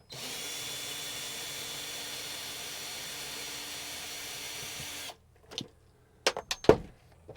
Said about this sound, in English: First, we got our drill here.